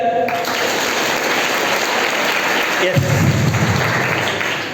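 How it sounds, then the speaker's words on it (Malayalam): A classroom audience at an anti-drug motivational class led by a police sub-inspector claps together, a dense, loud wash of applause that swells slightly and holds steady throughout. "നമുക്ക് ഒന്ന് കൈയടിച്ചേ നിങ്ങൾ"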